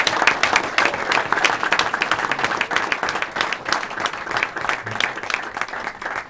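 Steady applause from an audience honoring the officials at a national junior college basketball tournament, dense clapping sustained evenly throughout and fading slightly at the end.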